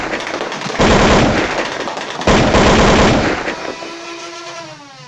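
A Nerf Perses motorized blaster fires two loud, dense bursts of rapid dart shots, each lasting over a second, then trails off into a whirring wind-down with no talking.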